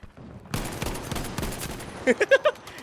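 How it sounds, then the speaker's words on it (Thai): Gunfire in the World War II shooter Battlefield V: a loud rattle of shots runs through the clip, ending in four distinct, heavy bursts near the close, with a voice briefly heard amid the shooting. "ปืนกลว่ะปืนกลว่ะ"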